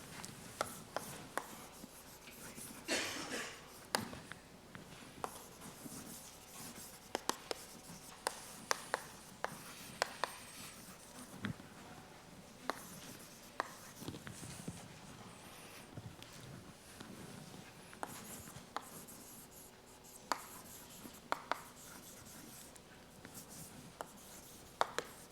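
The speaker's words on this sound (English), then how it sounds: "So I will write the title." Chalk or marker writes a lecture title across a board at a mathematics conference, with continuous scratchy strokes and frequent sharp taps over roughly twenty-five seconds, close and steady with no talking.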